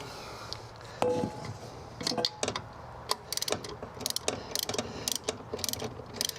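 A 9/16 deep socket ratchet turning a part out of the aluminum engine block of a Ford F150, close bursts of rapid ratchet clicking with short pauses between strokes.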